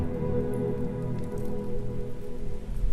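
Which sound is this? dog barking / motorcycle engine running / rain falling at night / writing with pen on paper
rain falling at night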